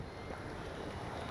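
Strong wind at an RC plane flying field, a steady, loud rushing roar buffeting the microphone, with no talking.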